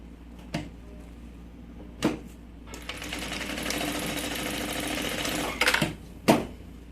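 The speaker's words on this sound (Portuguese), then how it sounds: "Costuro os três juntos." Sewing machine running a continuous stitching burst for about three seconds, joining lining, zipper tape and main fabric for a triple pencil case, with short clicks and thumps of handling before and after.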